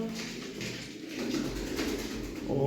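Large white male pigeons, a tumbling breed, cooing in a loft, with soft repeated low coos over light background noise.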